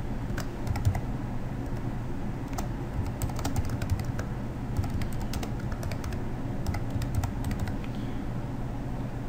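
Someone types on a computer keyboard with a steady patter of quick, close key clicks and occasional pauses, with no talking.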